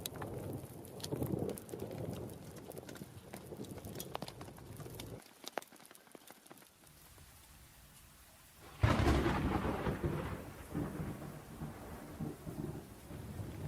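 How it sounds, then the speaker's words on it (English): Thunderstorm in the mountains at night, heard from inside a tent: low rumbling thunder and rain roll on steadily, drop away briefly, then a louder, close burst of storm noise and heavy rain takes over. "we got caught in a thunderstorm up here up in the mountains here"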